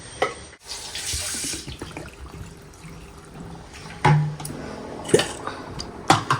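Rice is washed under a running kitchen tap, with quiet flowing water broken by intermittent splashy, squishy bursts as the grains are handled.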